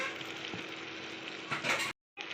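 Mashed raw jackfruit and boiled potato are stirred with soy sauce in a pan for kebab, producing a soft continuous sizzle and scraping that grows briefly louder before a short silent gap.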